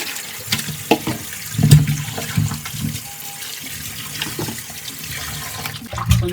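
Running tap water splashes unevenly as stingray fish pieces are rinsed and handled beneath it, with uneven splashes and soft knocks, close by.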